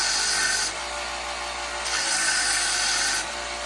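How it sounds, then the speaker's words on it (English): Steady rasping of 60 grit sandpaper across wood, a continuous coarse scratching in long back-and-forth strokes, close and fairly loud with no voices. "so I'm using a 60 grit sandpaper"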